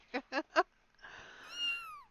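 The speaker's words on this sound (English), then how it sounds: "the peeps have found the cat noises in Discord" A cat meow sound effect played over a Discord voice chat: three short, loud meows in quick succession, then a longer drawn-out mewing call that rises and fades.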